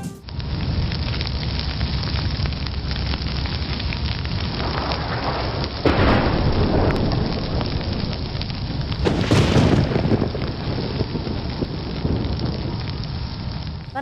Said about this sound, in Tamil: சென்னை மற்றும் திருவள்ளூர் மாவட்டங்களில் நேற்று பிற்பகல் முதல் பெய்யத் தொடங்கிய கனமழை தொடர்ந்து பெய்து வருகிறது